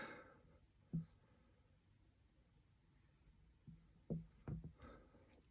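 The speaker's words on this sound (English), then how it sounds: "I forgot to write something on here. Hold on. My new whiteboard." Marker strokes on a new whiteboard come as a few short squeaky scribbles, one early and a quick cluster near the end, faint and close in a quiet room.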